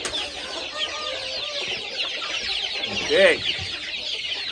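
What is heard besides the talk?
guinea fowl clucking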